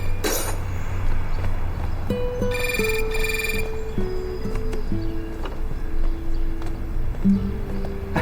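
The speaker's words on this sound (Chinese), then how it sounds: "电话。" A telephone rings indoors with a repeated electronic tone in short, even bursts that run across the whole stretch, moderately loud with a faint background hum.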